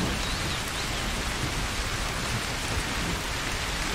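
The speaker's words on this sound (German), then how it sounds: "Uiuiui, es regnet." Steady rain falls in the farming game Cattle and Crops, a dense even hiss of drops filling the scene at moderate loudness without pause or voices.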